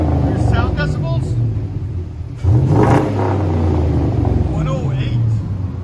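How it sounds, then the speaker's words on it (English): A 2003 Chevy Silverado SS with a 6.0L V8, cold air intake and Magnaflow exhaust idles with a deep rumble, then revs sharply partway through, with people talking over the engine. "You can hear the cold air intake on it."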